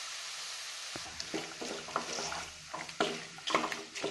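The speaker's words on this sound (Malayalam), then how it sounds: "ഇതിൻ്റെ കൂടെ കൊഞ്ചും ഗ്രീൻ പീസും കൂടെ ചേർത്ത് 2 മിനിറ്റ് നന്നായിട്ട് വഴറ്റണം." Prawns and green peas sautéing in a pan, a soft sizzle broken by scraping stirs and light clinks of a utensil against the pan, close and fairly quiet.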